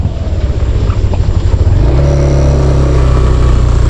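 A motorcycle engine strains and revs through deep mud on a trail, loud and close, with a throbbing low roar that settles into a steady higher drone as the throttle holds.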